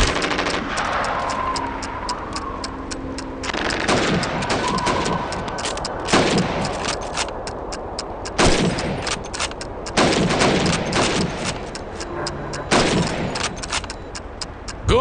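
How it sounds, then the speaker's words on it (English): Rifle shots fired at helmet targets during a timed training exercise in the video game Call of Duty 2, a string of loud, sharp cracks spaced a second or two apart with reload clatter between. "You have 15 seconds to shoot the helmets."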